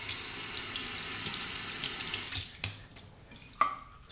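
A bathroom tap runs water to wet a shaving brush before a shave with a Merkur 34C safety razor, a soft steady faucet stream up close, with a couple of brief clinks as the flow is handled.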